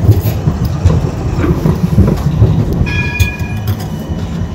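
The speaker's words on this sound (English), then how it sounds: "let's wait for the tram" A tram passes on a busy Amsterdam street, heard up close and loud as a rolling rumble with rail clatter and a brief high metallic squeal partway through, with no talk over it.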